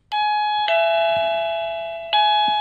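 A 1Byone portable wireless doorbell with flashing light rings a loud, close polyphonic chime: sustained bright tones struck three times, each ringing on and slowly decaying, with no voices.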